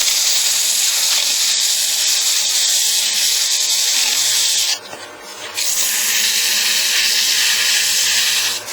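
A wooden vase being sanded with 180 grit sandpaper, a continuous close hiss of abrasive rubbing against the turning wood, steady and loud, broken by a brief dip midway before resuming.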